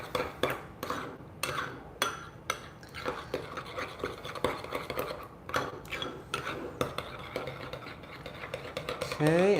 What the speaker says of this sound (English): Okay, so then we're just gonna mix this all together.